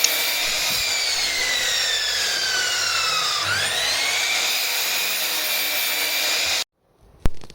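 A power tool cutting and sanding wall cladding, a loud continuous whine with a pitch that dips and climbs as it bites, up close and alone before it cuts off abruptly near the end.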